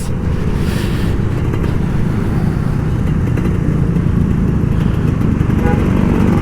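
A Kawasaki Ninja RR 150 two-stroke motorcycle rides through Jakarta commuter traffic, its engine a loud, continuous close-up drone with steady road and wind noise throughout.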